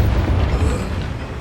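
Bombarda spell explosion in the Hogwarts Legacy video game, a loud, low, rumbling blast that sustains heavily throughout.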